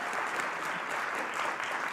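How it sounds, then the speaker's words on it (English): Applause fills the room at a Samsung Galaxy M series smartphone launch event, a continuous even wash of many hands clapping, moderately distant and without speech. "you can give a round of applause for that one"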